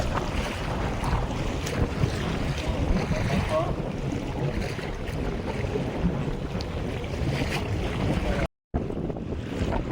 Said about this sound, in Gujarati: હમણાં યાર મોજો ચડ્યા છે.